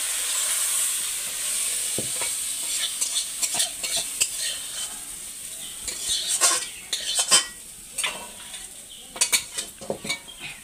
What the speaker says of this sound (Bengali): মশলাটা তেল ছাড়া পর্যন্ত কষে নেব